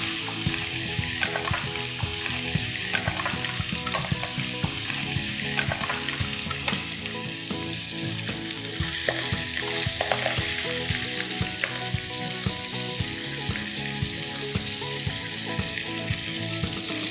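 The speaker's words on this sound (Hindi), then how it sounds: "फिर हम ये फ्राई कर लेते हैं" Chicken balls deep-frying in hot oil give off a dense, steady crackling sizzle with busy popping that stays loud and close the whole way through, with no voices.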